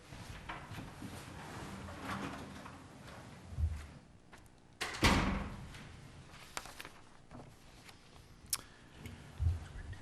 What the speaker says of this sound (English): Judy, can you shut the door?